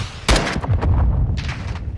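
A gunshot in Call of Duty DMZ, one sharp loud blast followed by a booming echoing tail and a couple of further reports, fairly close, with no talking.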